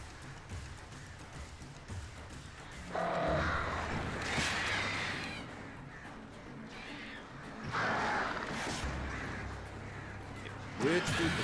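Crows caw in bursts in the video game Alan Wake Remastered, harsh calls rising over a dark rumbling ambience, with a player speaking at times.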